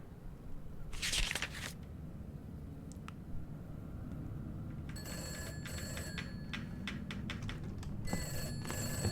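Old telephone ringing in the horror game Summer of '58, a burst of bell-like trilling near the start followed by later bursts of bright metallic ringing over a steady low hiss, with no talking.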